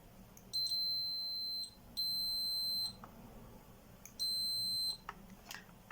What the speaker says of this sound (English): then the DMM will beep